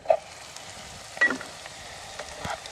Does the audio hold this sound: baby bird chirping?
no